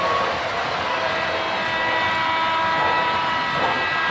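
Model trains run steadily around a layout, giving a continuous, fairly loud rolling whir and rumble with no voices.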